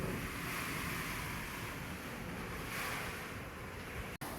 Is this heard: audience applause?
no